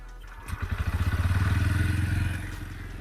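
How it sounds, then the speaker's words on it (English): A Bajaj Pulsar N125 motorcycle engine fires up with no cranking sound, rapid pulsing thumps building into a steady throbbing idle up close. "I'll fire it up for you and then you let me know how it sounds."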